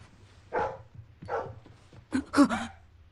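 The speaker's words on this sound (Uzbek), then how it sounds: "Yo tavba, bu nimasi? Daydi kuchuk." A stray puppy gives three short, soft yips and whimpers in a quiet setting, the last a quick double bark, close by and fairly faint.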